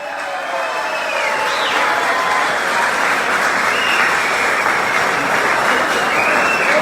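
Audience applause at a stage event honoring a former Internacional football champion, a dense, loud, sustained wash of clapping from a large crowd that continues steadily throughout.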